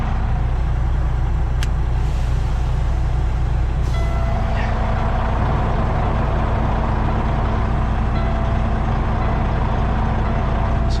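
Heavy 6x6 truck hauling a CAT 336 excavator, sitting still with brakes on: a loud, steady low diesel rumble with a constant engine drone throughout and no voices.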